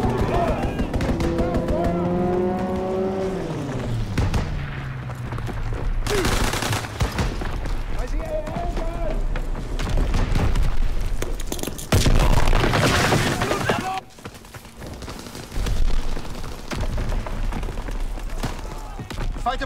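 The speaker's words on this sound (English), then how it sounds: "Strafing run inbound." Video game strafing run from a fighter pilot killstreak: dense, loud bursts of gunfire and booming explosions, with game voice lines over the barrage.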